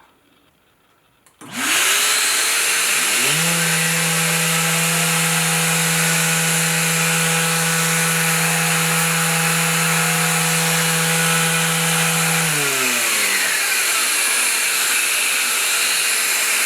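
Bosch power sander running with a shop vac hooked up, a loud steady whine that starts suddenly, rises to a sustained pitch with a droning hum, then winds down near the end.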